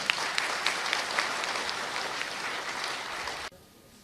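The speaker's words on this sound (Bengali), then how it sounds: "করতালি" An audience claps at an indoor gathering, a dense, even wash of applause lasting about three and a half seconds before cutting off abruptly.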